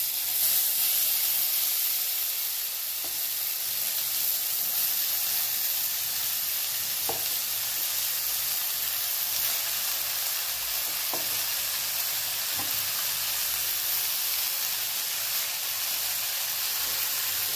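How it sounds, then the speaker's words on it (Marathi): Grated raw mango frying in hot ghee, a steady loud sizzle and hiss that carries on unbroken, with a few faint stirring clicks now and then and no voices. "आता हे तूप गरम होऊ देऊ। तिच्यामध्ये हा किस टाकू।"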